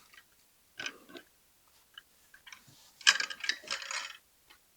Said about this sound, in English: I'm going to loosen this bolt.